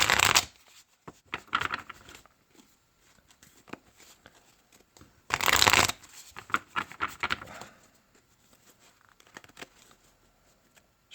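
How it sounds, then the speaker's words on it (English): Playing cards for a Statis Pro Baseball tabletop game are shuffled in two bursts of crisp riffling with quieter handling and tapping in between, close and fairly soft. "Supposed to shuffle them and turn them around."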